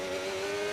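A McLaren Formula 1 car in the F1 25 racing game screams at full throttle with a steady, high-pitched engine whine that holds throughout.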